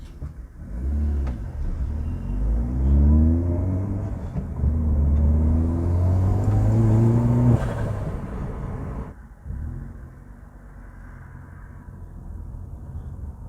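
A Peugeot 207 GTI with a manual gearbox pulls hard in second gear, its engine note climbing steadily and loudly for about eight seconds before easing off into a quieter, steady rumble.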